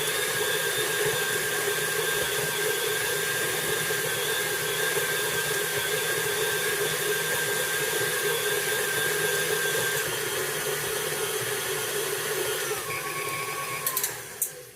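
A stand mixer with its paddle runs at high speed as a steady, loud whirring hum with a tonal whine, close and constant, before slowing and clattering to a stop at the end.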